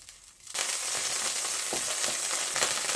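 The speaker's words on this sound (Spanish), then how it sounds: "a temperatura media voy dejando que se funda" Margarine, butter and olive oil melt together in a pan over medium heat, a steady close sizzle that starts abruptly and holds with small crackles.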